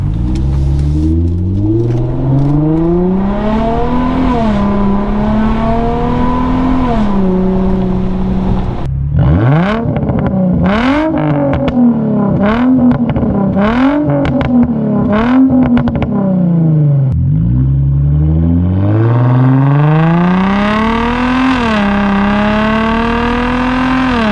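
An untuned Infiniti G35 with a resonator and muffler delete revs hard again and again, loud and raspy with a deep rumbling exhaust, rising and falling through repeated sharp pulls with no voices.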